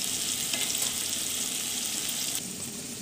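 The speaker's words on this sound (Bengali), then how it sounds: "এবার এটাকে আমরা সুন্দর করে আলুটাকে লাল লাল করে ভেজে নেবো" Potatoes frying on low heat for a Bengali mochar ghonto, a steady, close sizzle of oil that holds level throughout and eases slightly toward the end, with no talking.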